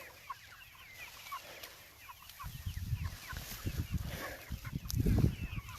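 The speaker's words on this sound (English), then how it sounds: "Henry, you got a chicken?" A chicken loose among hemp plants clucks and gobbles in short, irregular bursts close by, growing louder toward the end, with rustling and a quiet voice in the background.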